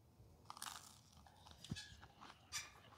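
Crisp crunching bites into grilled chicken skin cooked on a RECTEQ RT-1070 grill, a few sharp crackly bursts close to the ear with quiet pauses between them.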